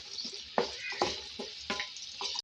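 Onion and garlic fry in hot ghee for a tadka, a close, steady sizzle broken by several sharp crackling bursts as the pieces spit in the pan.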